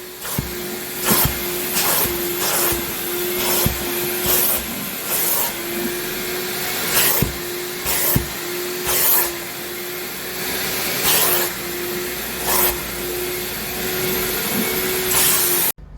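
A vacuum cleaner hums steadily with a constant motor tone in the trunk of a Chevrolet Impala, broken by repeated sharp clacks and rattles as the nozzle knocks against surfaces.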